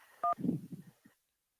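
A brief two-tone telephone dial beep followed by a muffled line click and low rumble as a call-in radio show picks up a caller's phone line, heard close with no talk.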